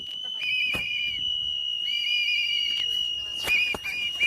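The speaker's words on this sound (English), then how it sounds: "Anybody else want to shove those whistles down their goddamn throats until they choke?" Protesters blowing whistles, shrill sustained blasts rising and falling with a few sharp overlapping bursts, loud and continuous against a crowd background with no speech.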